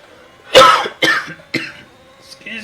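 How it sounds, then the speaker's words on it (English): A man coughing hard in three sharp, close bursts about half a second apart, followed by a softer throat sound. "This is not the time to start coughing."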